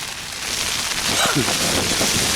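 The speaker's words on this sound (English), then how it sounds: "Strong winds and driving rain." Strong wind and driving rain on a fell in the Lake District roar as a steady, dense wash of noise, with gusty buffeting that swells slightly partway through.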